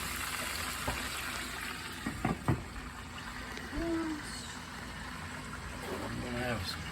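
Chicken fries in a homestead kitchen pan, a soft, continuous sizzle and crackle with a few stirring clinks, while people talk over it.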